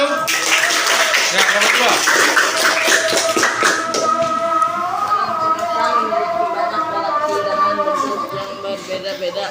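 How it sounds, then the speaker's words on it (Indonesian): A classroom claps for a group of students, the quick patter of hands filling the first few seconds before fading. A teacher keeps talking over the clapping and continues after it dies away. "Tepuk tangan untuk kelompok 1."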